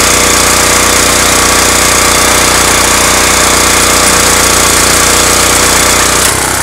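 Loud, steady engine of a farm cultivator being pushed through a field while planting potatoes, a continuous rough mechanical drone with a rapid hammering pulse, running nearly unchanged throughout.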